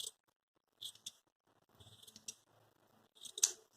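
Scissors snip at a poi tail in a few sharp, quiet cuts separated by short pauses, close to the listener, with no voices.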